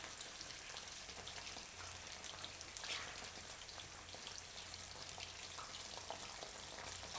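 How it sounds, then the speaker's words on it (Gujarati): Eggplant pieces fry in oil with a faint, steady bubbling sizzle and fine crackles, low in level and close by, with no talk over it. "બધા રીંગણા આપણે આમાં તળી લઈશું."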